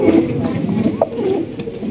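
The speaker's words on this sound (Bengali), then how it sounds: "এখানে কিন্তু আমরা কিং কবুতর দেখতে পাচ্ছি, একদম বিগ সাইজের" Large King pigeons at a wholesale pigeon market give low, soft coos that rise briefly over a constant murmur of background noise for about two seconds.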